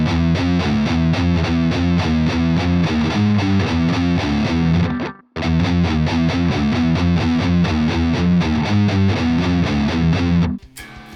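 Heavily distorted electric guitar chugs through tight, technical metal riffs, loud and relentless with rapid palm-muted rhythms, a brief break near the middle before the riffing resumes, then cutting off at the end.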